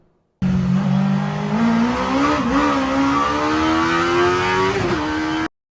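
A Mazda Miata swapped with a 1-liter motorcycle engine revs loud and steady for about five seconds, its buzzing pitch climbing gradually with a couple of brief dips, close up and with no talking.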